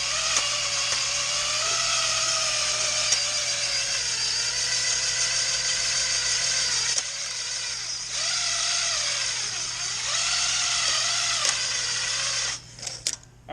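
A hone spins inside an oiled engine cylinder of an old Allis Chalmers WD tractor, making a continuous loud whirring grind whose pitch rises and dips, with a short pause midway before it winds down at the end.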